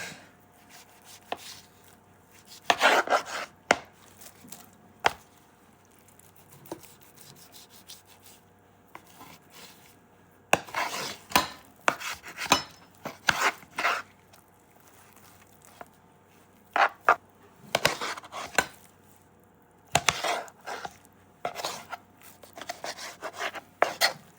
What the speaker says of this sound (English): So let's get the lamb sliced up real quick.